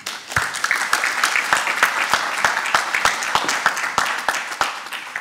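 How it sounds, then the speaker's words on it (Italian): An audience at the CEOforLIFE Awards 2022 ceremony applauds a prize for Save the Children. Many hands clap steadily for about five seconds, with sharp individual claps standing out from the dense, even patter. "Quindi vi chiedo un grande applauso per questo premio per Save the Children."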